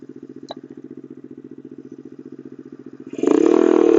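A Yamasaki YM50 moped engine putters in a fast, even rhythm up close, then revs hard into a louder, rougher roar as it speeds up.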